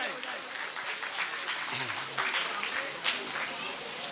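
Sustained applause from an audience at a regional national group song competition in Delhi, dense clapping filling the whole stretch, with faint voices mixed underneath.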